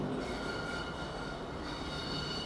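GBRf freight train with Class 66 locomotive 66764 on the rear rumbling steadily past at Norwich station, heading back towards Peterborough, a continuous broadband roar with wheel noise and faint high squeal throughout.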